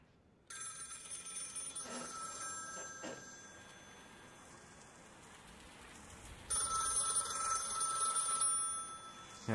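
A telephone rings in a virtual-reality horror game, with a bright electronic ring starting, fading to a quieter hum, then returning loud and sustained, with faint tapping sounds in between.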